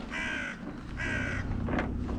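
A crow caws near a camp with a storm approaching: two harsh, drawn-out calls in quick succession, then a shorter, fainter one, fairly close against quiet outdoor background.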